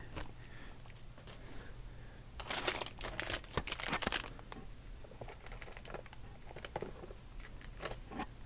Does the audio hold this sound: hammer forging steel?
no